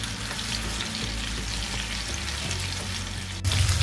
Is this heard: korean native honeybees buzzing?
no